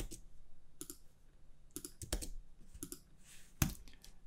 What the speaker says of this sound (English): Hit U on your keyboard.